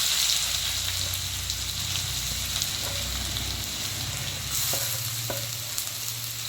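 Chopped onions fry in hot oil in a pan, giving a continuous close sizzle with a few light stirring clicks and a low background hum.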